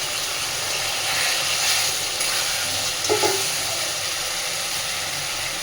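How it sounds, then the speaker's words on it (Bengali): Mustard, poppy seed and green chili paste stirred with two fried eggs in a hot pan, making a steady, close sizzle and hiss with a few faint scrapes and no voices. "সর্ষে পোস্ত কাঁচা লঙ্কা বাটাটা দিয়ে একটু নাড়াচাড়া করে নিচ্ছি"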